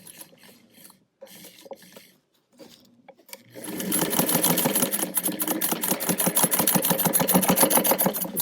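Fabric pieces are stitched on a sewing machine: short, soft bursts of handling and brief starts give way to a fast, steady mechanical rattle that runs continuously to the end.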